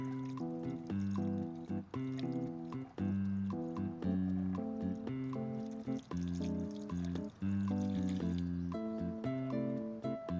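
Premixed coolant concentrate and water pours into a Yamaha R7 motorcycle with a steady, close gurgling fill, broken by brief glugs and pauses, and no one talking.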